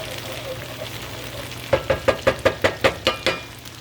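Garlic sautés in a pot and is stirred around with a utensil. A low sizzle gives way to a run of about nine evenly spaced scraping strokes, close and fairly loud.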